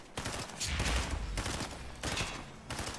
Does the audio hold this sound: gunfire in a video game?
yes